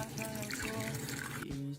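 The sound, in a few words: pouring cold water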